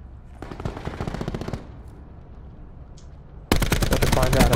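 Rapid automatic gunfire from Call of Duty: Black Ops 4, coming in two loud sustained bursts, one near the start and another near the end, with a quieter stretch between them.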